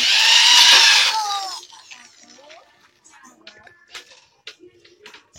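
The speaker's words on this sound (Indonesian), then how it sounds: "Kita bor." A power drill bores through metal for a minimalist one-meter clothes drying rack before riveting, a loud whining burst lasting about a second and a half that winds down, followed by scattered clinks and handling sounds.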